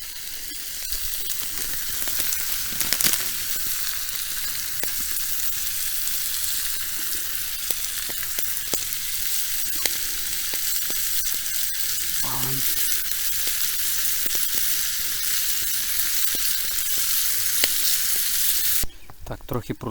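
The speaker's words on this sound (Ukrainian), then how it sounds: "Зараз трошки протушимо." Parasol mushrooms stew in a pan with garlic, basil and tomatoes over a fire at a forest hut, with a continuous close sizzle, scattered crackles and stirring clicks before a brief drop near the end.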